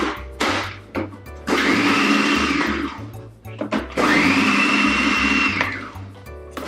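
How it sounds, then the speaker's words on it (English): A food processor chops mangoes for a pineapple mango salsa in two loud whirring bursts of a few seconds each, with brief pulses and a pause between them. "put those in the food processor and just chop those up a little"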